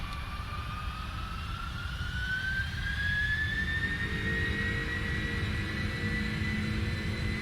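Jet engines of a Boeing 747-400F cargo airliner in a Prepar3D flight simulator spooling up, a loud steady roar with a whine rising steadily in pitch throughout.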